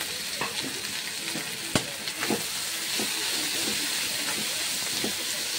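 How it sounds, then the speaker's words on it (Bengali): Green chili, garlic, green banana and potato frying in hot oil, a steady loud sizzle throughout with a few stirring clicks and taps, no talking. "তেল গরম হয়ে গেছে, এখন আমি কাঁচা লঙ্কা আর রসুন সম্বাস দিয়ে দিচ্ছি"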